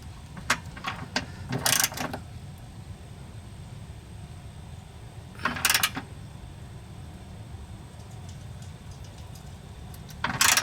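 Ratchet wrench loosening and tightening a motor mount bolt on a Toyota MR2, heard as a few short bursts of rapid clicking separated by quiet pauses, close and moderately loud.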